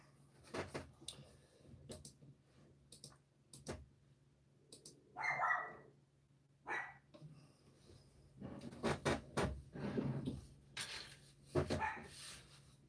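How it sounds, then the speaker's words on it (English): Dogs bark in the background indoors, scattered sharp barks and yips in clusters with quiet gaps between, faint against a low steady hum, without any talking. "And you're going to hear dogs in the background too"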